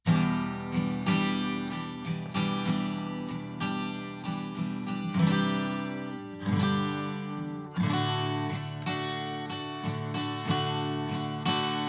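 Strummed guitar chords ring out in a steady pattern, broken up by longer sustained chords, with no voices.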